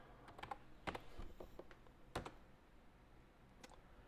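Password being typed on a computer keyboard: a few scattered, sharp key clicks with irregular gaps, close and fairly quiet, with no talking.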